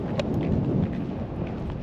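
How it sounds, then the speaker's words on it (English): Gusty desert wind rumbles against the microphone in a low, continuous roar, fairly close, with no talking. "It is crazy windy out here right now."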